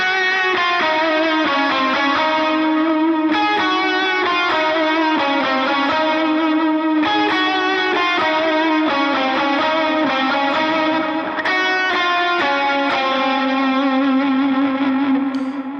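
Distorted electric lead guitar with effects plays a melodic worship-style line over a continuous backing track, following the chorus melody in Mixolydian with steady sustained notes and echoing repeats.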